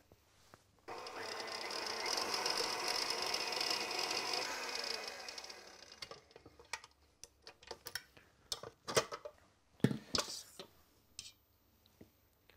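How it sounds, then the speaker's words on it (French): An electric mixer whips cream at medium speed for a praline Chantilly mousse, a steady close whir for about five seconds that gives way to a scatter of sharp clicks and knocks. "Montez maintenant la crème à vitesse moyenne pour obtenir une texture mousseuse avec un foisonnement optimal"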